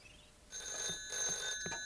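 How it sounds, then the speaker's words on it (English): A telephone rings in a house in the animated Postman Pat village, a steady electronic trill starting after a brief quiet moment, moderately loud and alone with no voices. "The next day, the phone rang in Pat's house."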